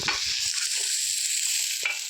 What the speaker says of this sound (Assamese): কেঁচা গোন্ধটো যোৱালৈকে অকণমান ভাজি ল'ম।